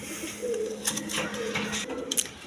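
Pigeons in a market coop coo in soft, repeated low rumbles with a few sharper bird calls over a steady background hum; the birds sound close.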